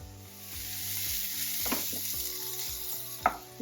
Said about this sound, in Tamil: நல்லா ஆனியன் வதங்கிடுச்சு.